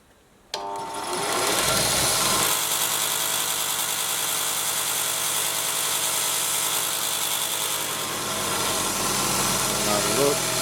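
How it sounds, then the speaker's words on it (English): A linisher belt sander grinds down a metal shaft, starting abruptly with a loud, continuous abrasive whir and rasp that holds steady for several seconds before easing slightly near the end. "looks like we just got to just take a smidge off, so we'll do that on the linisher"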